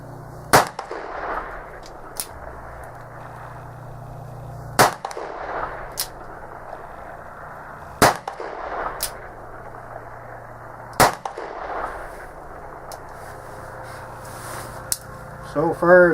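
An Uberti 1860 Army cap-and-ball revolver fires several sharp, loud single shots at irregular intervals of a few seconds, each crack dropping back to quiet between.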